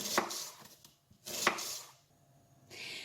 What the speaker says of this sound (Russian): Первым делом нарезаю лук.